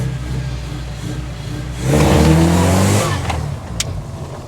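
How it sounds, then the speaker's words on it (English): Bagged mini truck driving under its own power outdoors, its engine idling and then revving up loudly near the middle before settling back down. "it is finally outside and drives under its own power"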